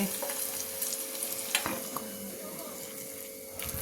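Curd rice with tempered moong dal and onions is stirred and mixed in a pan, a soft continuous sizzle with a few scraping strokes and a steady faint hum running underneath.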